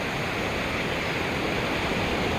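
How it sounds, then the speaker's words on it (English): Ocean waves wash continuously onto a sunny beach, a loud, steady roar of surf with no voices. "I'm on this beach,"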